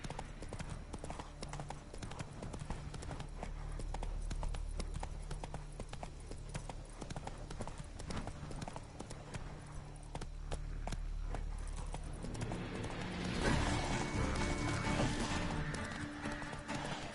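Roach the horse gallops in The Witcher 3, hooves clip-clopping in a quick, steady rhythm that grows louder and busier near the end.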